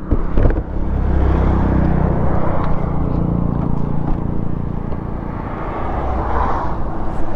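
A superbike with its stock silencer roars steadily and loudly, a deep engine and exhaust rumble that swells and holds for several seconds, with no voices over it.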